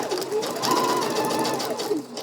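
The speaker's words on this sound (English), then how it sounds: "gonna keep stitching around the pocket bag until I hit my little dot there" A sewing machine stitches steadily around a fabric pocket bag, its fast mechanical hum running close and continuous for the whole stretch with slight shifts in pace.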